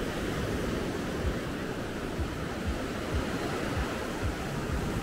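Ocean surf rolls in at Canh Duong beach in Phu Loc, Thua Thien Hue, a steady broadband wash of breaking waves with light wind noise, continuous and moderately loud, with no talking over it.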